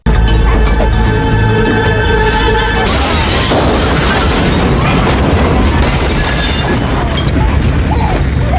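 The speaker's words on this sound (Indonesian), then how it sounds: "Jack terpaksa harus menahan sebuah ledakan untuk melindungi seorang bayi agar tetap selamat" A film-scene explosion from an action movie with Van Damme and Dennis Rodman: a sudden loud boom erupts about three seconds in, following a tonal stretch, then a long roaring, crackling rumble of debris that fills the rest of the clip.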